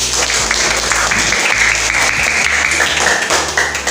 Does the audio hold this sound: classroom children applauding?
yes